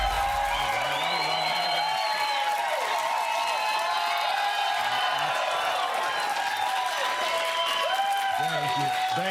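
Studio audience cheering and applauding for a host, a steady bed of clapping and whoops with a voice talking over it.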